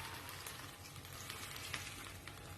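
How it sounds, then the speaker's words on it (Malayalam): Roasted prawns sizzling loudly in a pan as water hits the hot oil, a dense continuous crackling hiss with no voices. "ഞാൻ കുറച്ചും കൂടെ വെള്ളം ഒഴിച്ചു കണ്ടോ"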